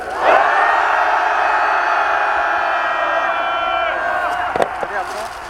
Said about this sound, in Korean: 청와대가 들을 수 있도록 다시 한번 함성 시작.